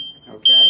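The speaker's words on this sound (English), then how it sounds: "That's the smoke alarm." A household smoke alarm sounds a loud, piercing test tone, steady at first, then swelling louder and harsher near the end, with a brief spoken word over it.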